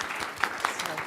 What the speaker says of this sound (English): big round of applause to Meghna Jang